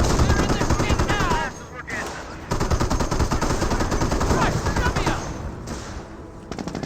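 Rapid bursts of a Greyhound armored car's .50 cal machine gun in Company of Heroes, with dense gunfire and battle effects throughout, heard under a commentator talking over the action.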